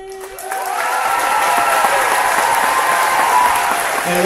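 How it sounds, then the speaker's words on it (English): Applause at a 12th grade graduation ceremony right after the national anthem: a large crowd's clapping swells in within the first second and stays loud and sustained, with faint music fading out at the start. "And let's give a round of applause to Santanzo Kylie Mason."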